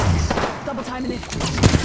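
Rapid gunfire bursts in the Apex Legends battle royale game, loud and dense, crackling over a busy combat mix with other shots and effects throughout.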